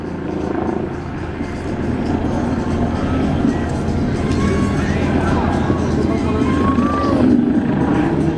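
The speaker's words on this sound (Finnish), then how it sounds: "Ja selkälentoa helikopterilla." A Red Bull Bo 105 helicopter flying aerobatic manoeuvres, including inverted flight, its rotor and engine droning steadily and fairly loudly throughout with a slight swell partway through.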